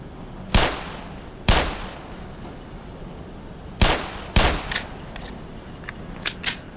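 Gunfire in the video game Black Mesa: several loud, separate single shots spaced irregularly, the first pair about a second apart, then a later cluster followed by smaller clicks and clatter, with no talking.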